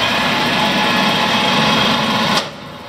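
Warner & Swasey #3 ram type turret lathe motor whirring steadily at high speed, a close, even mechanical hum that drops abruptly near the end.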